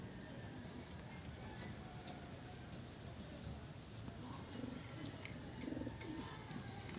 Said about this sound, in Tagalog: Yan, 3 birds.